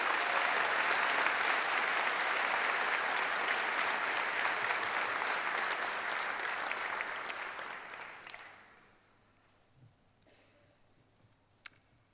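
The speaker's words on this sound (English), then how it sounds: "let's give him a big round of applause." Sustained audience applause at a university graduation ceremony for a business, law and communications school, a loud dense clatter of many hands that fades out around eight seconds, leaving a quiet hall with a few small clicks.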